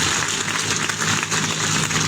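A crowd at a political rally in Chhattisgarh claps in a brief continuous wash of applause, moderately loud and steady, with no voices over it.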